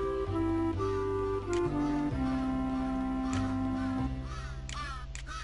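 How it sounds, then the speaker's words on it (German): Ravens caw in a Santa Claus platform video game, raspy calls over loud looping game music with a pulsing tone in the background. "Die Raben."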